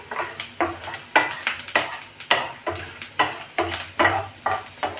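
Chopped green chilies fry and crackle in a pan for a palak corn sabji, with repeated stirring scrapes and bursts of sizzling at a steady rhythm, close and fairly loud.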